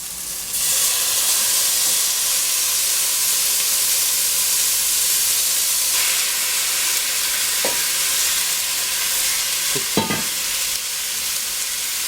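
Beef hits hot oil in a pot for stewed pepper steak, setting off a loud, steady, close sizzle that holds for the whole stretch, with a couple of brief utensil knocks near the end.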